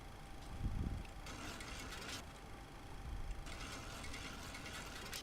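Trim wheel being set in a Boeing 737-300 flight simulator game, with mechanical ratcheting clicks in two bursts over a steady hum of cockpit noise, close and moderately loud.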